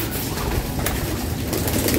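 Racing pigeon hens coo softly and repeatedly around a loft, a low murmuring that runs continuously through the whole stretch under steady background noise.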